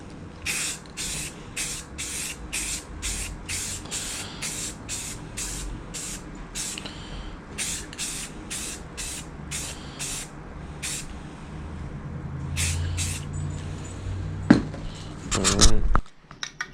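Spray paint dusted in a light first coat onto a Chevy key cabinet: a series of short hissing bursts in a steady rhythm, close, ending in a longer burst and a clatter.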